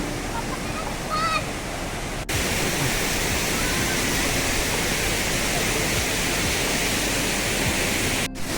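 Manche waterfall in Devgad pours with a loud, dense, unbroken roar heard up close, holding steady throughout with a brief high chirp early on.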